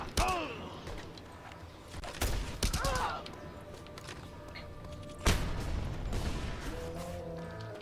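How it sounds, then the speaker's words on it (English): An upgraded machine gun fires in Just Cause 2 amid a chaotic game battle, with scattered loud bursts, a heavy impact midway and whistling, crashing effects around it, the shots coming in short separated volleys. "In case you still haven't noticed how good the upgraded machine gun is."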